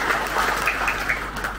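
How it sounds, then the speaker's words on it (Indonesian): A church congregation applauds during a 26th anniversary service of a Kayan-language BEM congregation in Taman Tunku. The clapping is dense, steady and fairly close, and it fills the short moment without pause. "Beri tepukan kepada"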